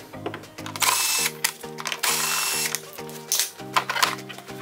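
Two T20 Torx screws are backed out of a part on a BMW N54 engine bay with a ratchet, giving close, loud bursts of rapid clicking pawl ratchet sound in repeated strokes with short pauses.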